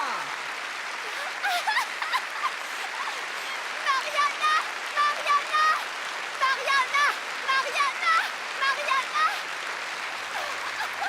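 Concert audience applauds a singer being introduced on stage, a continuous wash of clapping with excited voices and cheers rising over it in bursts.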